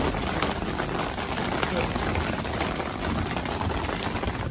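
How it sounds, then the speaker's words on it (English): Hail falls steadily outdoors as a dense, even hiss and patter of ice pellets, loud and continuous throughout with no pauses. "Hailing. It's hailing."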